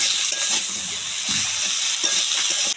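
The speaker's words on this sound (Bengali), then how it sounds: "বেশ ভালো করে মশলার সঙ্গে আলু বেগুন আর পুঁই মেজরি ভালো করে ভেজে নেব, মানে কষিয়ে নেব।" Potatoes, eggplant and Malabar spinach stems frying with spices and salt give a loud, constant sizzling hiss with faint stirring scrapes through it.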